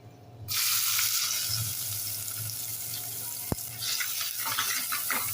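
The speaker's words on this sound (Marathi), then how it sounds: "आता आपण घालूया बारीक चिरलेला कांदा" Finely chopped onion hits a hot pan with cardamom, cinnamon, cloves and peppercorns for prawn khichdi, bursting into a loud, steady sizzle that continues close up, broken by one sharp click.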